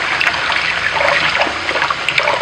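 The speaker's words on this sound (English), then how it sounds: "Pardon me while I wash my hands real quick." Hands being washed under a running kitchen tap, a steady close trickle and splash of water that continues throughout with small fluctuations as the hands move.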